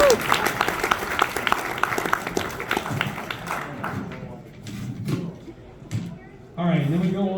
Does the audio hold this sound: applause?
yes